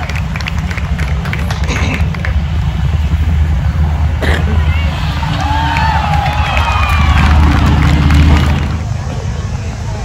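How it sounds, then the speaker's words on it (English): A crowd at a crosscut saw competition at the Florida Forest Festival cheers and calls out continuously, loud and busy, with mixed voices, a few whoops, and a swell of noise toward the end. "Alright, let's hear some noise. Let's cheer them on."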